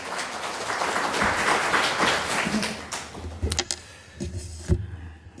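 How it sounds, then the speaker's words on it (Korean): A church congregation claps together in sustained applause that gradually thins out into a few scattered final claps. "할렐루야 하고 박수 한번 하시겠습니다"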